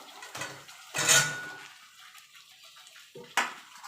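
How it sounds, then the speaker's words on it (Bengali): Fried potatoes tipped into cooked-down masala in a pan for aloo dum, giving a short clattering scrape and sizzle near the one-second mark, followed by quieter stirring and a brief clink of a utensil near the end. "এখানে আলুটা যে ভেজে রেখেছিলাম সেটা দিয়ে দেবো"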